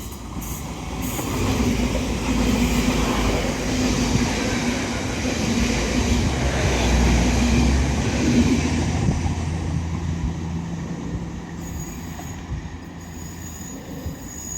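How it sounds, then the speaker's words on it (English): A TransPennine Express class 802 passes through Stalybridge station on the Huddersfield line, a loud, close rumble of wheels and carriages building and fading, with some high squeal, and no voices. "Now passing through is going to be a Transpennine Express class 802."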